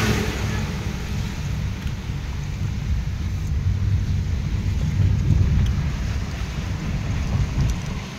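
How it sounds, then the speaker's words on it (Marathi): Rain falls outdoors in a dense, steady wash with a deep rumbling undertone, continuous and fairly loud with no talking. "पाऊस पण येतो वरच्यावर"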